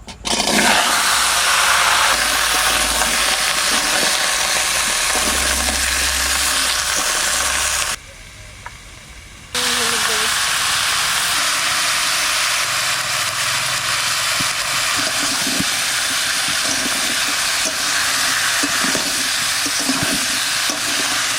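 Curry cooking in a little hot oil in a pan, a constant loud broadband sizzle with scraping stirs, briefly dropping off for a moment before the frying hiss returns at full strength.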